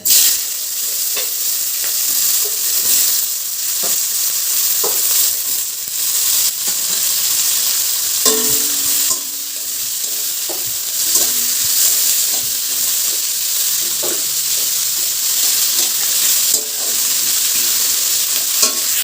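Chopped onions fry in hot oil tempered with cumin seeds, giving a steady, loud sizzle with occasional scraping stirs, close up and with no talking.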